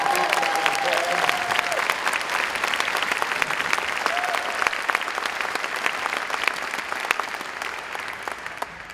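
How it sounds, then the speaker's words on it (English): A large graduation crowd at a 2016 arts high school ceremony gives a big round of applause after a visual arts and theater presentation, dense continuous clapping with scattered cheers and whistles, loud and sustained before tapering slightly. "Won't you give another huge round of applause for the visual arts and theater presentation?"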